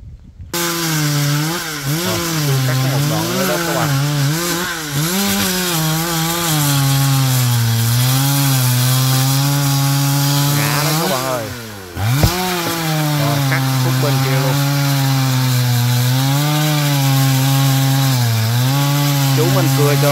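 A chainsaw cuts through a huge yellow-flowered melaleuca tree, its loud, close whine rising and falling as it bites into the wood, with a short dip midway before cutting resumes.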